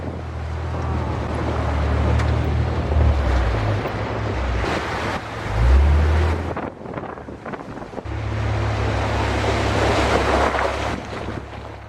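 A Jeep wading through a river crossing in canyon country, with continuous rushing water and splashing over a low engine drone that swells, dips briefly and then resumes, heard close and steady with wind buffeting.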